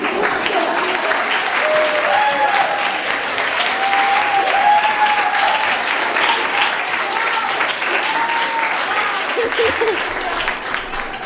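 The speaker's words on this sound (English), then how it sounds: "let's pretend like I've been very successful and just stand up and applaud for me" A standing audience at a sustainable-development talk applauds in one long, steady wave of clapping with scattered cheers and whoops, fairly loud and continuous before fading slightly at the end.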